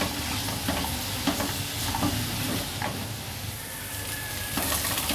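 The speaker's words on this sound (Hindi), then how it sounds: "प्याज और लहसुन वगैरह को भी मैंने इस तरह फ्राई कर लिया" Onions and garlic frying in hot oil, a soft steady sizzle broken by scattered scraping stirs of a spoon in the pan, fairly quiet and close.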